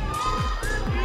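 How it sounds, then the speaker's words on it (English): A pageant crowd at a Miss Universe Philippines swimsuit presentation cheers and shouts loudly in a large venue, a dense wash of voices with rising chant-like calls. "I hear this crowd saying,"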